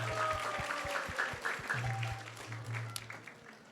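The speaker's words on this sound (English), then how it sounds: "So let's give them a big round of applause." Audience applause at a devotional talk gathering, moderate and fairly distant, steady clapping with some tones and noises mixed in.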